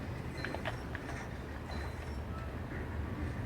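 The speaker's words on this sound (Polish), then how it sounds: "Idzie pociąg." A passing train in the video game Fortnite gives a steady, dense rumble that fills the whole clip at an even level, with a few faint metallic clicks on top.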